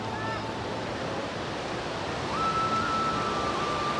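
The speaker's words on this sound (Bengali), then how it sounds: "আর জলের ফ্লো দেখুন, ঢেউয়ের আসে পড়াগুলো দেখুন খালি" Sea waves breaking on Bakkhali beach, a steady roaring wash of surf mixed with wind buffeting, continuous and fairly loud throughout.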